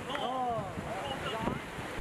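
Ocean waves and strong wind at sea in rough, high-wave conditions around a small boat near an offshore platform, making a steady roar and wash, with a voice faintly heard over it.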